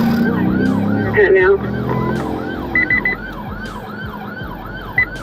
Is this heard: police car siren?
yes